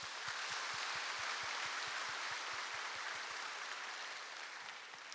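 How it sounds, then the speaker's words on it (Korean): Welcome applause from a church congregation at a Sunday morning service, greeting new members: a steady, moderately distant wash of clapping that holds evenly for several seconds before easing slightly, with a faint low rhythmic thud pulsing underneath. "동산의 가족이 되신 분들께 우리의 마음을 담아 환영의 박수를 드리겠습니다."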